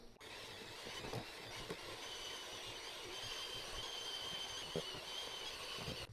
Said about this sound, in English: So let's go ahead and start whipping again.